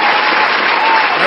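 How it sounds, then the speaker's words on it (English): A canned crowd-applause sound effect played from a button, a dense, loud, steady burst of clapping and cheering lasting about a second, slightly tinny and band-limited like playback through a small speaker. "Eli, can we give a round of applause to Monty?"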